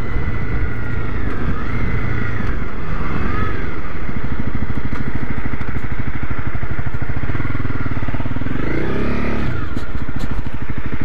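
A Honda CRF250L Rally motorcycle turns around on a road in the Lake District, Cumbria, its single-cylinder engine loud and close, a throbbing idle with blips of revving and rising pitch as it manoeuvres.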